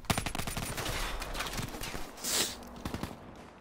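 Rapid bursts of MP5 submachine gun hip-fire from the Call of Duty 4 video game, a loud crackling volley of close shots with a short pause partway through.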